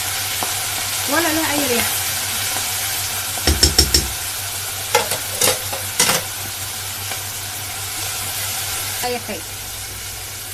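Sliced onions and liver sizzle steadily in a hot pan, with a few sharp scraping knocks as they are stirred and turned. Someone speaks over the frying.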